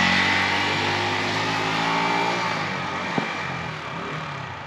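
A rebuilt Yamaha YZF R125 motorcycle is ridden, its engine droning loud and close with a steady harmonic whine that eases slightly, and one brief click partway through.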